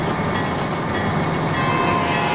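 An F40PH diesel locomotive with Superliner cars, in a train video game, drones with a steady, dense engine rumble as the throttle comes up, holding constant and loud throughout.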